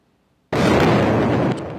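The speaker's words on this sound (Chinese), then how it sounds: "激烈爆炸声了后" A single sudden, powerful explosion in Gaza during Israel-Hamas fighting bursts out after a near-silent moment, roars loudly for about a second, then drops to a lower rumbling tail.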